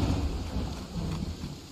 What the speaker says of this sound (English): Why is the fucking thunder in this game so goddamn loud?